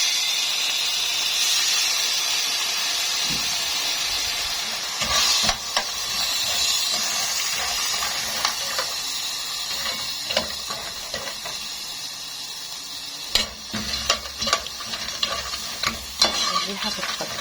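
Garlic and bread frying in a pan for Egyptian fatteh, with vinegar poured in, give a steady broad sizzle and hiss, with sharper crackling bursts and stirring clatter near the middle and the end.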